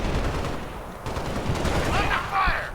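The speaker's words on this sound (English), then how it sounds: "Under fire!" Rapid bursts of gunfire from the Halo: Spartan Assault video game rattle loudly through a short stretch, with a faint voice underneath.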